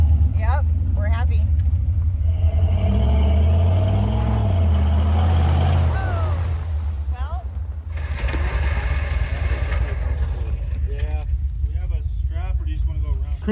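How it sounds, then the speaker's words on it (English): A Ford Bronco on 40-inch tires with a one-ton Dana 60 axle swap rumbles steadily along a dirt trail, its low engine drone constant throughout while people talk over it. "Bronco's running great"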